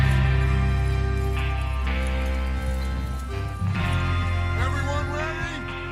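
Horses hoof along in Red Dead Redemption 2, a steady clip-clop running beneath a continuous bed of music or ambience with an occasional faint whinny, moderately loud and fairly close.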